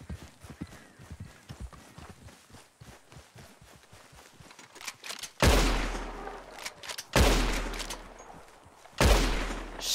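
Three loud gunshots ring out in Red Dead Redemption 2, spaced a few seconds apart and each trailing off in a long echo, following a stretch of galloping horse hooves during a buffalo hunt.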